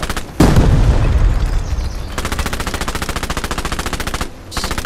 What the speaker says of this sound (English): Oh god, another grenade!